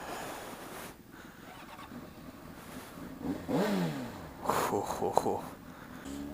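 A 2003 Honda CBR 600RR motorcycle pulls away, its engine rising in a brief rev under wind rush and someone talking, moderately loud.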